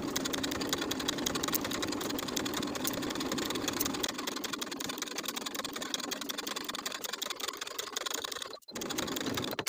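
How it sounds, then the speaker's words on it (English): A sewing machine stitches the outside edges of a fabric collar, running in a fast, steady whir up close, briefly stopping near the end before starting again. "And then sew the outside edges with a 3/8 inch seam allowance."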